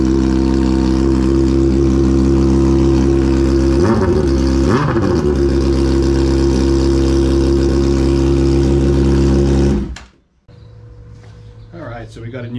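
A Honda CBR600RR sport bike engine runs loud and steady at close range, with two quick throttle blips mid-way, then shuts off abruptly and leaves a low background hum.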